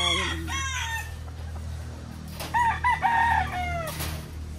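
A pure-breed AAJ Golden Boy Sweater gamefowl rooster crows loudly in a breeding area, with drawn-out calls rising over a steady low hum and no one speaking.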